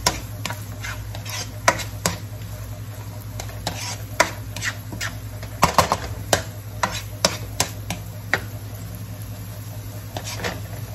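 Onion and garlic sizzling in a pan for lasagna, a steady low frying hiss broken by repeated sharp taps and scrapes of a utensil against the pan at an irregular pace.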